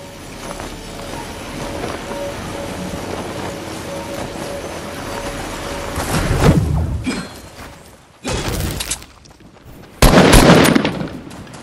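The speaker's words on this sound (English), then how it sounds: "I'm getting shot at" Video game gunfire in Fortnite, rapid automatic bursts of shots with loud crackling spikes near six, eight and ten seconds over a steady hum of game sound.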